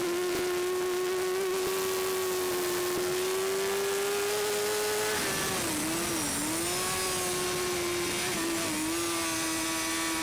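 A racing motorcycle engine screams at high revs on an Isle of Man TT lap in 2014, loud and sustained, dipping briefly as the rider shifts back down into fourth for a big left-hand corner before pulling hard again.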